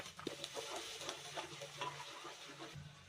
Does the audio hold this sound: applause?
no